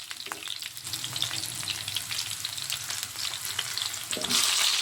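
Ginger, garlic and onion frying with cinnamon and cloves in hot oil, a dense continuous sizzle with occasional stirring scrapes, close and steady, no voices.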